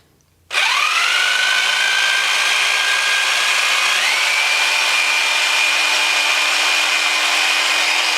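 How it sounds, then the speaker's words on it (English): An old Black & Decker jigsaw starts up after a brief silence and runs loud and steady, its high motor whine holding with a slight step up in pitch partway through. "Old school Black & Decker jigsaw before power consumption was really a concern."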